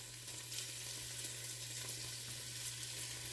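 Five slices of smoked bacon cut into pieces sizzle as they cook in a stock pot, a steady close crackle and hiss with a low hum underneath.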